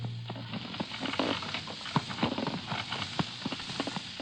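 Hooves of a donkey pulling a cart clip-clop in a steady, close rhythm on the road outside a Scottish village, with wheel rumble beneath.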